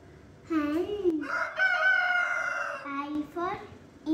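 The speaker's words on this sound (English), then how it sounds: "H for hen," A rooster crowing in a kids' nursery rhyme alphabet song, two or three drawn-out cock-a-doodle-doo calls, loud and close, with a voice faintly present.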